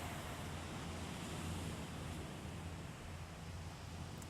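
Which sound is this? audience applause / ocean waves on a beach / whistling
ocean waves on a beach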